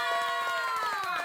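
A studio audience cheers and applauds for Thomas at an evening show, a brief loud burst of crowd noise with voices calling out over the clapping.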